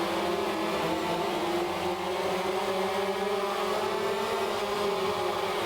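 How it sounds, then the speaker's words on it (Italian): Continuous motorcycle engine drone in the video game MotoGP 13, harmonic tones holding at high revs, steady and close, no talking. "ho sentito la moto partire"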